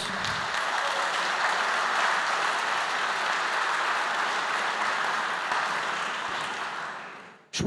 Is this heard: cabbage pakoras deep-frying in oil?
no